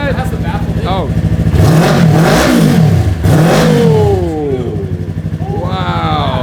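A Yamaha R3 motorcycle engine fires up and revs hard twice, with rising and falling roars close by, then settles into a rough idle. People speak over it.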